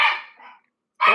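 A dog gives two sharp, loud barks close by, separated by a short silence.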